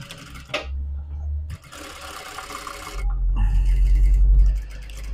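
A sewing machine topstitching the folded edge of a drawstring bag in short runs, its motor whirring loud and close between brief stops, with light handling noise and no talking.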